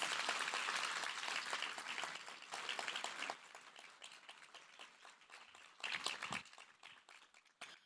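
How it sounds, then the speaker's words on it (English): Round of applause for awardees at a summer program gathering, a fairly faint, scattered clapping that starts fuller and thins into sparse individual claps with a brief swell late on. "let's just start by giving our awardees a huge round of applause for their accomplishments"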